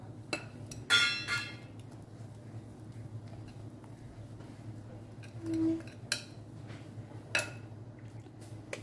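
Cake batter for a mango dhonas being moved into an oiled, paper-lined tin, a quiet kitchen scene with sparse clinks and scrapes of utensil on metal and a few soft knocks.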